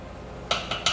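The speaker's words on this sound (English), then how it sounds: "just going to make sure I stir my pasta along the cooking process" A spoon clinks against a pot while pasta is stirred for baked rigatoni, three quick, light metallic taps close by in the last half second after a quiet stretch.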